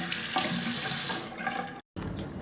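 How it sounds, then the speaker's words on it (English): Hands washed under a running tap before making homemade lipstick: a loud, close, steady rush of water splashing into a sink, briefly cut off near the end before resuming. "Number two, you wash your hands."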